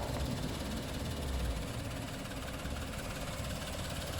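Three-cylinder 1.0-litre engine of a 2015 Suzuki Celerio GA manual hatchback idling, a steady low rumble with a faint shaky pulse, continuous and moderately quiet with no talk.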